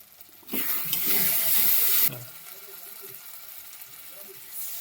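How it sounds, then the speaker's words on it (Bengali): Water splashes into a pan of cooked-down mutton curry masala, a loud rushing pour lasting about a second and a half before dropping to a quieter, steady simmer with low bubbling. "সামান্য একটু জল দিয়ে দেবো।"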